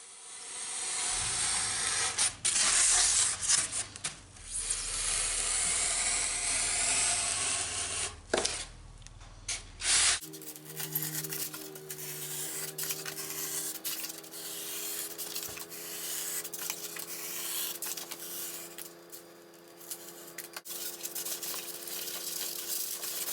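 A sharp blade cuts a polystyrene shape for a mould, producing close, scratchy rubbing and rasping strokes in irregular bursts, followed by a quieter stretch of faint scraping.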